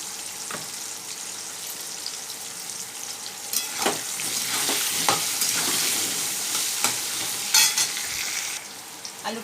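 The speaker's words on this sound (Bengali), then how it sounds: "আলুটাকে ভালো করে ভেজে নেব" Potatoes coated with turmeric and salt fry in a pan for a jackfruit and prawn dish, giving a steady close sizzle broken by irregular stirring scrapes and clicks of a utensil, with no talking.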